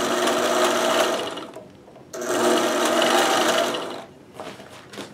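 A sewing machine stitching stiff fabric for a 3D printer cover, a loud, close continuous whirring run that stops briefly, restarts for another long stretch, then gives way to quieter handling noises.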